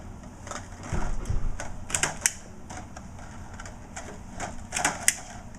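A handheld stapler drives staples through plastic cups being joined into a ring, giving a handful of sharp, separate metallic clicks spread irregularly over several seconds, close by, with no talking.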